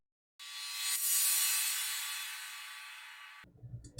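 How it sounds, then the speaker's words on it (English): A cymbal sweep effect for a melodic dubstep drum part rises as a bright, shimmering wash of high noise, swells and slowly fades over about three seconds before ending abruptly, after which faint other sounds follow. "and another cymbal sweep"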